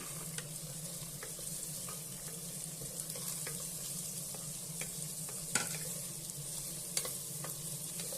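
Field bean (avarekalu) dal sizzles in hot oil with ginger and garlic, a steady crackling fry with occasional scrapes and taps of stirring, fairly quiet and without speech.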